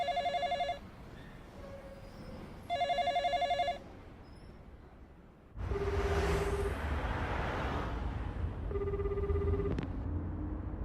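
A telephone rings in repeated electronic bursts, first two clear rings in a quiet room, then further rings continuing under a sudden swell of train or traffic rumble.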